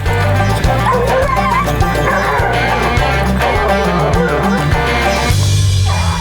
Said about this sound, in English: when you can hear the dogs howling and you can hear them running something